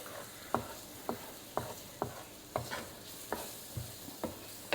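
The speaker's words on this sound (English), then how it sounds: "Give that a nice stir" A spoon stirring an autumn casserole in a pot after salt and pepper go in, making a steady series of distinct scraping knocks about every half second, close and fairly quiet, with no talking.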